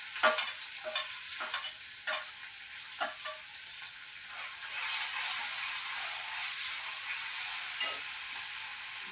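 Ginger garlic paste and green chilies fry in hot oil, giving a steady bright sizzle that swells louder halfway through, with a few stirring scrapes early on, close and alone.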